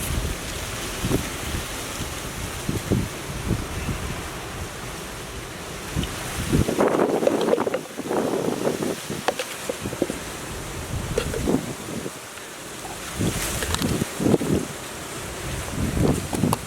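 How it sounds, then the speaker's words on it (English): Heavy breeze blowing outdoors in Jamaica, a constant rushing gust buffeting the microphone, swelling and easing in loud surges across the whole stretch, with no voices. "the breeze are blowing heavy"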